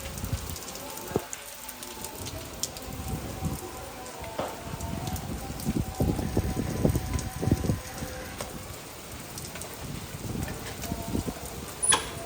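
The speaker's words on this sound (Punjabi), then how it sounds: "ਸਾਡੇ ਸ਼ਹਿਰ ਵੀ ਬਾਰਿਸ਼ ਹੋਣ ਲੱਗ ਗਈ ਆ" Steady rain falls over a village during a stormy downpour, a dense hiss of drops on surfaces lasting throughout, with some voices and scattered knocks in the background.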